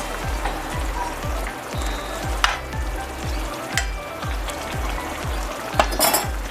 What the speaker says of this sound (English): All I'm going to do to this now is just cover it and let it simmer.